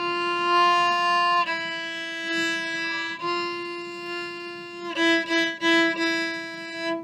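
A solo violin plays the harmony part of a school orchestra arrangement, measures 151 to 154: sustained bowed notes, close and clear, moving through a few pitch changes with slightly separated strokes near the end.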